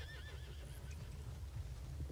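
Horse neighing in Red Dead Redemption 2: a whinny opens, then soft hoof clip-clop and low rumbling ambience continue, faint and moderately distant with no talk.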